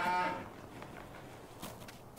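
A cow lets out a single moo in Farming Simulator 19, loud at the start and trailing off into quiet farmyard ambience as cattle wander near an open barn gate.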